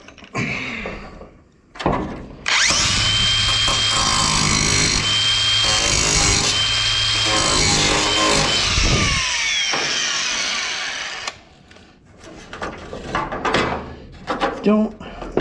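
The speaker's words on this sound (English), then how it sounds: "Grind those off." A grinder cuts through the rusted lock slides on a 1940s SELOIL oil rack, a loud continuous whine lasting about nine seconds, bracketed by clanks and handling noises.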